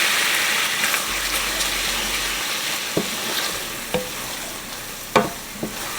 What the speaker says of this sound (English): We're going to cook off the alcohol. Deglaze our pan.